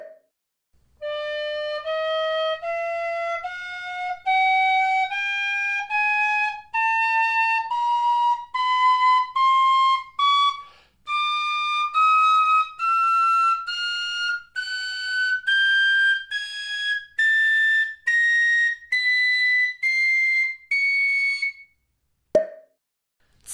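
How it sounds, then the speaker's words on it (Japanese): A Music Morneau chromatic tin whistle plays a slow rising series of separate clear notes up through the scale, loud and close with short breaks between notes, and no voices. "こちらのクロマチックホイッスルはピアノの発鍵と黒鍵すべての12の音を演奏できるように指穴が設計されています"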